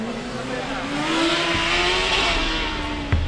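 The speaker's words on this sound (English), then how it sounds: "the car sounded louder" A Formula Student race car engine drones past during an endurance event in Poland with a rising then falling tone, loud and close, ending with a sharp knock; a voice is faintly audible.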